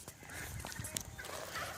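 African geese calling faintly at a distance: brief honking, gobbling cries over low background noise.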